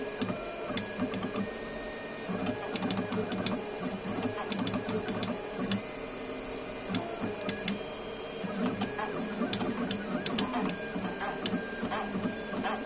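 A 4-watt Endurance DPSS Nd:YAG impulse laser on a CNC machine marks stainless steel, giving a steady mechanical whir with rapid stepping ticks and buzzing that continue throughout at close range.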